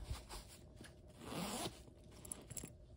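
A zipper is pulled along the double zip front pocket of a fabric bag, one quick close zip with some handling rustle around it.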